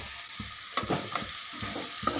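Fish curry ingredients fry and sizzle in a pan with a steady hiss, while a spoon stirs through them in repeated scraping strokes, close and fairly loud.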